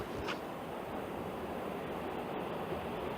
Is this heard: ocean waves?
yes